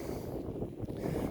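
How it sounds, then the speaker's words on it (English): Steady wind buffets the microphone beside a dam lake, a dense, continuous low roar of rumbling gusts with no other sound standing out. "it might be a little bit windy right now because it's a damn lake here"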